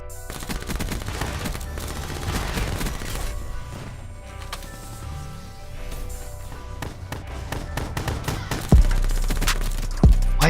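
Rapid bursts of gunfire from the video game Black Ops 3, a dense, continuous clatter of shots running the whole time with a couple of sharp louder blasts near the end.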